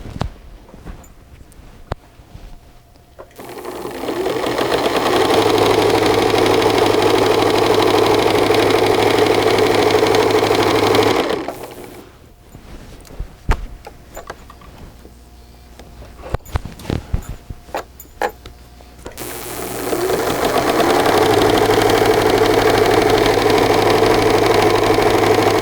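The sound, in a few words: sewing machine stitching fabric with a pocket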